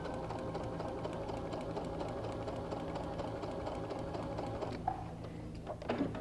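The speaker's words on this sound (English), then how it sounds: "I'm going to sew right on that line." A sewing machine stitches along a line for paper foundation piecing, a steady close mechanical whir with fast regular needle clatter that briefly stops near the end.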